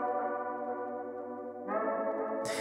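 A smooth synth pad from a VST instrument in Studio One holds a sustained chord, shifting once to a new chord, steady and even with a soft echoing tail, no voices.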